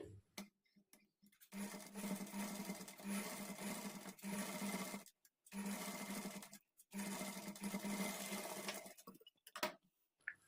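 A sewing machine runs a top stitch beside a piping cloth with a normal presser foot, sounding in four steady running bursts with brief silent stops between, close and fairly quiet, no voices.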